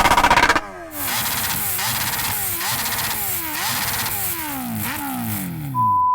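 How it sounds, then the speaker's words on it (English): A Kawasaki H2R or Ducati Panigale superbike revving hard at a drag race meet, with repeated loud, close throttle blips rising and falling in pitch one after another, ending on a steady high whine. "Can you rev up your bike?"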